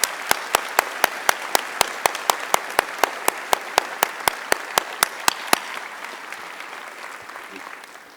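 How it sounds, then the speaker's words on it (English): At an economics undergraduate commencement ceremony, an audience applauds, with crisp evenly spaced loud claps standing out over a crowd's softer clapping before it fades out. "Another round of applause, please, for Mary Ellen Coe."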